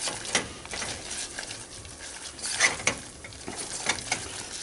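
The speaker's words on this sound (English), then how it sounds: "you want to keep stirring so one, it doesn't burn, and 2, to help it get all mixed together" A butter and flour roux for Welsh rabbit is stirred in a pan, giving soft scraping and light sizzling strokes that repeat irregularly and sit close and fairly quiet.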